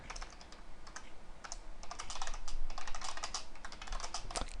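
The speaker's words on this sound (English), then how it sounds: "Can't talk and type at the same time apparently" Typing on a computer keyboard during web page coding, a close stream of uneven key clicks in quick bursts with brief pauses, fairly soft and steady over a low background hiss.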